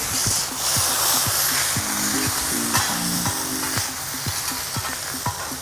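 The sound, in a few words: food sizzling on a teppanyaki grill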